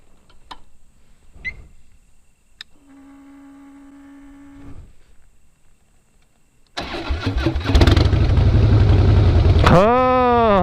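A faint mechanical whir and clicks, then a Harley-Davidson Breakout motorcycle engine bursts to life, idles with a deep rumble, and revs up near the end.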